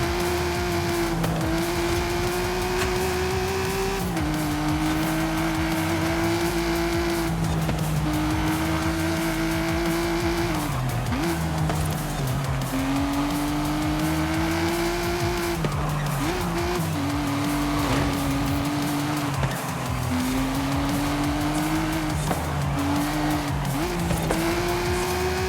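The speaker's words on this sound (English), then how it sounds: "Crazy how much nicer this car sounds than the SL65 does." An Aston Martin's engine roars continuously through rising revs and gear shifts during a race in the Forza Horizon 5 video game, with occasional tire squeal, loud and close.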